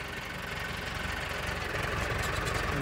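A tractor engine runs with a 10-foot rotavator working a field, giving a steady dense rumble that holds at an even, fairly loud level from start to finish.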